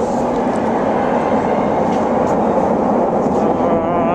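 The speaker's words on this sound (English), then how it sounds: "And here comes the train, folks." A train passes close by with a loud, steady roar and rattle of rail cars that holds at full strength throughout, with no talking.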